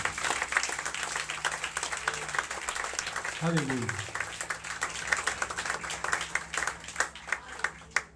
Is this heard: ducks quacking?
no